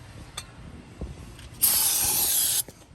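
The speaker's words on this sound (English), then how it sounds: "you want to spray the new brake caliper because it gets chipped with a chemical on it known as cosmoline or some kind of machining oil" Brake cleaner is sprayed onto a new front brake caliper during a 2013 Ford C-Max brake job, a single loud, close, steady hiss lasting about a second after a few faint clicks and handling noises.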